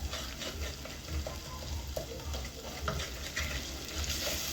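A pan gives a low, steady sizzle while a crushed beef stock cube is stirred in for a pasta dish, with scattered scrapes and clicks of the spoon and a faint watery bubbling underneath.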